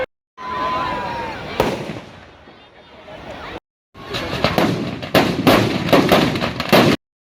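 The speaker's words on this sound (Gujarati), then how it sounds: "સાથે ભવ્ય આતશબાજી પણ કરવામાં આવી હતી।" Bursts of fireworks crackle and bang at a Dussehra burning of a 50-foot Ravana effigy in Ankleshwar, rising in a dense rapid volley with crowd noise underneath.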